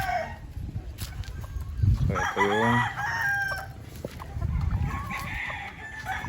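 Chickens cluck nearby on a gamefowl farm while a rooster crows once in the middle, loud and drawn-out. Someone speaks briefly over the flock.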